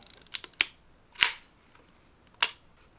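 A Rollei 35 film camera is wound by hand after its shutter is released, giving a quick run of small ratcheting clicks followed by a few sharp, close mechanical snaps in a quiet room.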